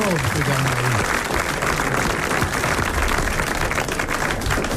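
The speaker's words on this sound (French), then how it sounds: "vous applaudissez Monsieur Garneri de Rueil-Malmaison" A studio audience applauds a contestant from Rueil-Malmaison on a French radio game show, a steady, dense wash of clapping that fills the whole stretch, with a voice briefly audible underneath at the start.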